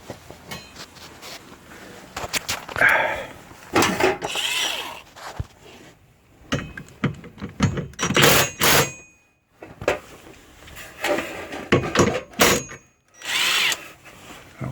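An impact wrench tightens tow hitch bolts under a 2012 Honda Accord in several short, loud rattling bursts separated by brief pauses and quiet clicks, close up with no talking.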